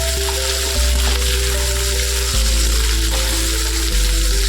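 Bottle gourd greens (lau saag) sizzle steadily in a hot pan with an even crackling hiss, broken by a few soft dull knocks.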